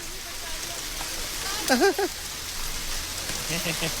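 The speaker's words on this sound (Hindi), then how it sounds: "ये तो बारिश हो गई।" Steady rainfall patters as a constant hiss throughout, with a brief sung or exclaimed voice rising over it in the middle and again near the end.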